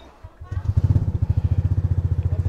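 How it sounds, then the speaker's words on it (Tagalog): A motorcycle engine cranks and catches after a short quiet lead-in, then settles into a close, loud, evenly pulsing idle thump. "So start natin yung motor."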